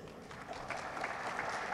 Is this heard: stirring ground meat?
no